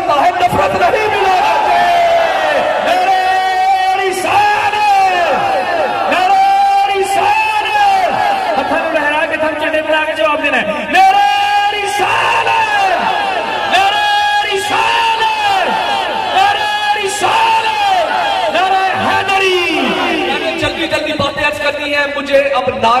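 Large crowd chanting religious slogans and dhikr in unison at a Sufi shrine gathering, an Urs celebration at Pir Chura Sharif, with loud rhythmic voices that rise and fall in repeated phrases throughout.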